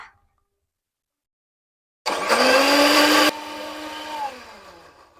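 Kitchen blender grinding a spice paste with asam sunti, starting abruptly after silence with a loud whirring roar that drops in pitch and then winds down.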